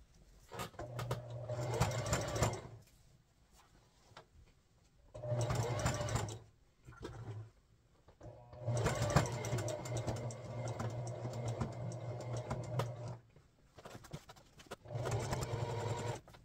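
A sewing machine stitches a patch onto a Fanatics hockey jersey in several bursts of rapid, rattling needle action separated by quiet pauses, close and fairly soft.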